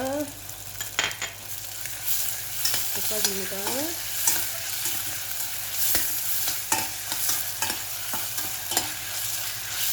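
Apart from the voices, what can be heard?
stir-frying pork with sugar in a pan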